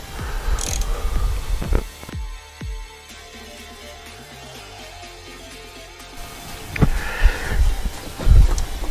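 Ratcheting clicks and mechanical turning sounds from a wrench loosening 10 mm bolts on the hood of a 1995 Ford F-150 Flareside, heard close up under a steady low hum, with brief clanks at the start and louder knocks near the end.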